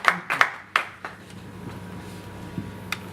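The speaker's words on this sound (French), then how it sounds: "Applaudissements." Scattered claps from a press conference audience: a few sharp hand claps in quick succession, then fading to sparse, isolated claps over a quiet room.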